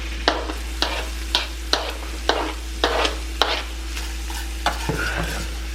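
Onions go into a hot pan for liver meatballs, a steady close sizzle punctuated by about ten sharp scraping stir strokes in a regular rhythm, with a low electrical hum underneath and no talking.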